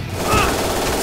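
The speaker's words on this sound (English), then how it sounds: "Stop shooting at me." Rapid automatic gunfire in the action game Shadow Warrior 2, a dense continuous barrage lasting the whole second, loud and close.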